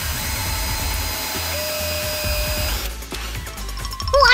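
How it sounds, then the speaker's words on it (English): A small power drill whines steadily as it bores through a bottle lid for a toy car build, a sustained motor drone that cuts off near the end and gives way to clicks and rustling handling noises. "And here comes the drill again."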